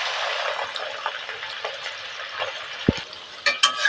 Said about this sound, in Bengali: তেল তেতে গেছে, বেরেস্তার জন্য পেঁয়াজ দিয়ে দেবো।